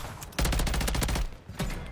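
A BP50 rifle without the SMG conversion kit fires on the Paris map in Call of Duty MW3: two rapid automatic bursts, loud and close, with a short gap between them.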